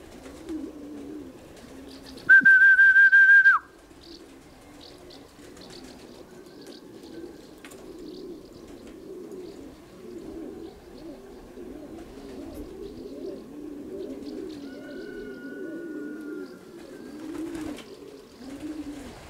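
Racing pigeons coo softly and continuously at a loft after a race, a low, rolling burble of several birds close by, with a brief steady whistle-like tone early on.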